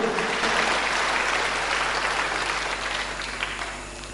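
A church congregation claps for God during a sermon by Pastor Samuel Kusuma, the steady applause filling the room, then gradually thinning and tapering off.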